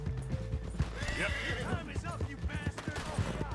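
A horse whinnies in the video game Red Dead Redemption 2, with hoof clip-clops and scattered gunshots around it, while players talk loudly over the action.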